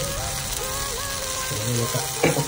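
Tomato frying in a pan makes a continuous crackling sizzle, partly masked by background music with sustained tones and a brief clatter near the end.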